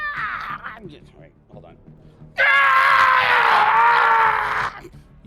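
A voice imitates a creature's screech with a loud, sustained, high-pitched shriek lasting about two seconds, after brief talking.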